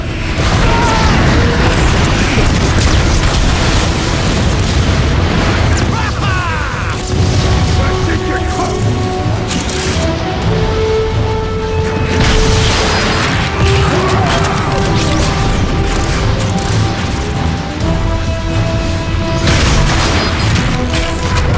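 Metroplex opens fire in Transformers: Fall of Cybertron, with loud sustained explosions and heavy booms rolling one after another throughout. Dense mechanical battle noise and tonal game sound sit under the blasts.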